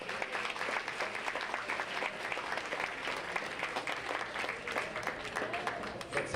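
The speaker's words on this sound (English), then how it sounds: "would you please give yourself a round of applause" Full room applause at a guest-speaker event, a continuous even wash of many hands clapping at moderate distance, unbroken for several seconds.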